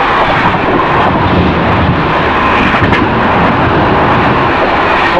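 Sanghamitra Express train rushing past at very high speed, a loud continuous broadband roar of wheels and air filling the whole stretch without a break, with no voices.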